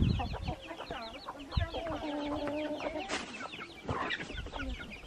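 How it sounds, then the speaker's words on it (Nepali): A village rooster in a Limbu home setting clucks and calls repeatedly at close range, with other farmyard fowl sounds scattered throughout. "यो भाले चाहिँ विमल अङ्कल र कैलाश अङ्कलको लागि दुइटा खतरा रहेछ"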